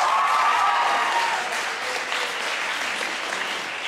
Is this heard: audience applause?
yes